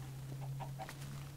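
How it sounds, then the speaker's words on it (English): Chickens clucking in Minecraft, a few soft, quick clucks in a row over a steady low hum, faint and brief. "Chickens!"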